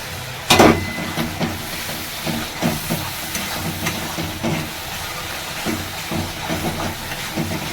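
Ground Kashmiri chili, coriander, cumin and turmeric hit hot oil with a sharp initial burst, then settle into a steady broadband hiss and sizzle with faint stirring clicks, close and continuous, no voices.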